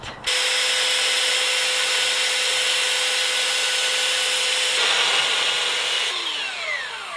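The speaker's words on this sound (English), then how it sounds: "I'm just going to take the belt sander and sand it down just a little bit" A belt sander runs steadily on a wooden floor panel for a Mitsubishi Delica 4x4 van conversion, giving a loud continuous whirring grind with a slight shift in tone partway through before it begins to wind down.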